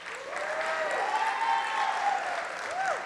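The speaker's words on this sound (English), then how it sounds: "Come on, one more round of applause" An audience at an event honoring women leaders gives a round of applause, steady crowd clapping throughout while a speaker's amplified voice carries over it.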